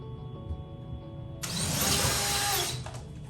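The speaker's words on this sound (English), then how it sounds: "we're going to take a 11/64 drill bit, and we're going to go ahead and drill all of our holes" A power drill fitted with an 11/64 bit bores a hole during a full-height restroom partition install, starting abruptly as a loud, steady whine that holds for over a second before cutting off, with a faint hum beneath.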